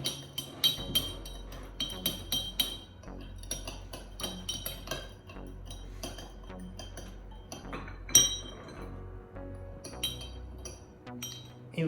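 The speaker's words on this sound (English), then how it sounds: "Stirring up more and more sugar," A spoon stirs an Old Fashioned with sugar in a glass, making a steady run of close, bright clinks and tinkles against the glass and ice with no talking.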